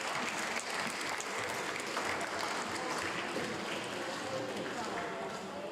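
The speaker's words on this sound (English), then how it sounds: "Ladies and gentlemen, can I have one more round of applause for James's auntie," Guests at a wedding reception give a continuous round of applause for the groom's auntie, a broad, even wash of clapping heard at moderate distance with crowd murmur mixed in.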